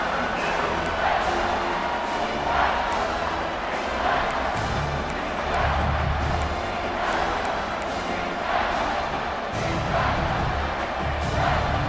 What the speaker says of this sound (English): here comes the noise. This crowd is trying to inspire this defense